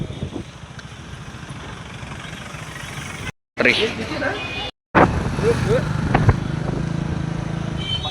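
An Ambassador car engine idles with a steady low rumble at a birthday gathering in Dharwad. People talk over it throughout, and the sound drops out briefly twice.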